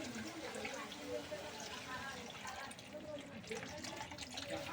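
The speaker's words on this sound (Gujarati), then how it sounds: "તો હવે આપણે પાણી નાખી દઈશું અંદર." About half a glass of water is poured into a pan of kaju paneer kadai gravy, a soft, faint trickle and splash close by, with no clear voices over it.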